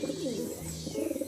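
A dove coos in soft, rounded phrases, repeating a low rolling call several times nearby.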